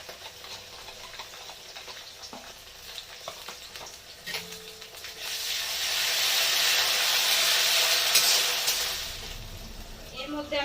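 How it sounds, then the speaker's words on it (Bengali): Ginger paste hits a pan of fried onion and garlic for a Kolkata-style mutton curry, setting off a swelling sizzle after a few scattered clicks and stirs, loud through the middle and easing off toward the end. "তো এর মধ্যে আমি এবার দিয়ে দেব আদা বাটা।"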